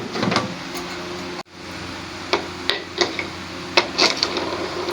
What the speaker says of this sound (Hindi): प्रेशर कुकर का ढक्कन बंद कर देंगे।